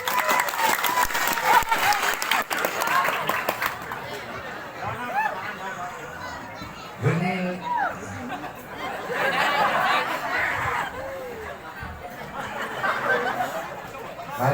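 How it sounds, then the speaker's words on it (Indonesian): An audience bursts into applause at a lively local performance in Bali, a dense clatter of clapping at first, then settling into crowd chatter and laughter with further rounds of clapping rising and falling. "tepuk tangan"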